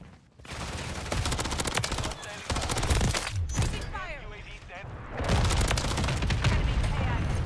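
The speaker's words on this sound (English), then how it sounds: "was that VTOL popping off for me" A VTOL killstreak in Call of Duty MW3 rains heavy gunfire and explosions, loud continuous bursts with a short lull midway, layered with other game sounds.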